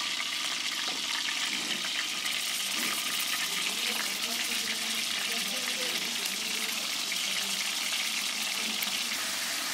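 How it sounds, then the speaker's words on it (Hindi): Chicken pieces go into hot ghee one by one for a Pakistani chicken tikka, setting off a steady, loud, hissing sizzle that fills the whole stretch, with a voice speaking faintly beneath it. "1 बाय 1 करके हम इसमें चिकन की जो होगी पीसेस, ये देखिए ये डालेंगे"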